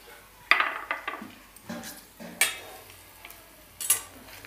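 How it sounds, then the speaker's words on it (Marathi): A spoon stirs and presses mashed boiled potatoes with salt and masala in a bowl, producing a handful of sharp metallic scrapes and clinks at irregular intervals, close and fairly quiet. "आणि हे सगळं आता व्यवस्थित असं एकत्रित करून घेते."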